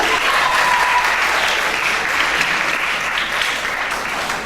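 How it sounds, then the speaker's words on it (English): Steady, dense applause from an audience at a school reading competition final, loud and even throughout with no voices over it. "Give a round of applause."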